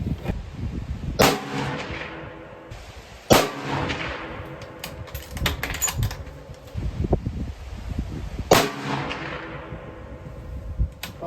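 Three loud, sharp rifle shots from a Savage Axis rifle firing handloads, spaced a few seconds apart, each with a ringing echo tail and wind noise between, no talking.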